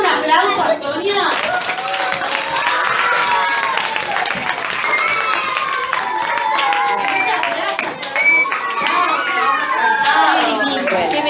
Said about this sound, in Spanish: vamos a dar un aplauso a Sonia